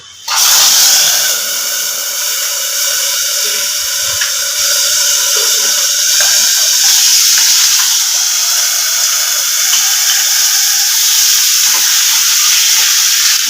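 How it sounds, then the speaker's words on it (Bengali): Shol fish sizzle and hiss loudly in hot oil in a partly covered pan over a lowered gas flame, a steady, close frying crackle throughout. "আস্তে আস্তে করে মানে একটু ঢাকা দিয়ে দিয়ে মাছটাকে আমি ভেজে নেবো"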